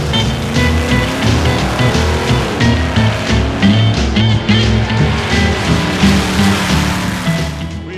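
Classic hot rods racing down the drag strip at a hot rod reunion, a loud continuous roar of engines with layered revving tones filling the whole stretch, no voices.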